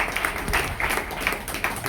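An audience at a Jain religious gathering applauds for Vinay ji, a dense, continuous patter of many hands clapping nearby, steady for the whole moment.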